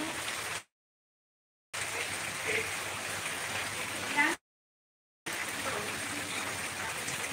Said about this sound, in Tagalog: Walang tigil na ulan didi.